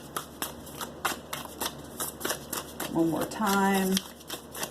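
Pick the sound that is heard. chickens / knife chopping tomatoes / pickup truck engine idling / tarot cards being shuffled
tarot cards being shuffled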